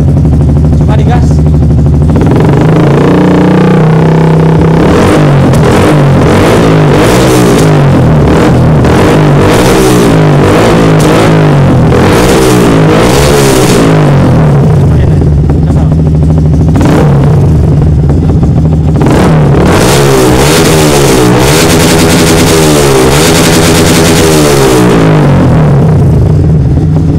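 Yamaha R15 motorcycle engine being revved repeatedly in a workshop while it charges at 18 volts with the warning lamp on, loud rising and falling bursts over a running idle, with voices talking throughout.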